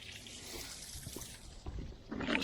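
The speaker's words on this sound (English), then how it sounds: "Let me turn some water on." Water runs steadily from a hose beside an old bass boat being readied after years of sitting, a faint, continuous wash with some soft splashing toward the end.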